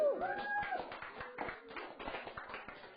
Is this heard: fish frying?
no